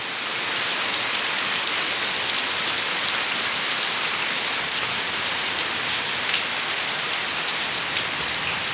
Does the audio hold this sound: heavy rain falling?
yes